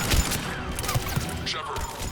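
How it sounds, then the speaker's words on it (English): Video game gunfire in Mass Effect 3 on Sur'Kesh: a few sharp shots and clattering mechanical bursts over a busy background of game ambience, moderately loud. "I can shoot through some cover."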